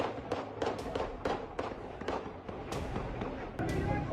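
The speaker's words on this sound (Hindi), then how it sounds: "सिविल लोग भी यहाँ पर फायरिंग कर रहे हैं।" Gunfire during a protest in Pakistan-administered Kashmir, a string of sharp cracks at irregular intervals, some in quick pairs, over a constant rumble of crowd noise.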